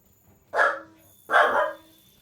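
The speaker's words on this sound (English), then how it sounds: "And my dogs are barking." Two loud, close dog barks sound about a second apart in an otherwise quiet room.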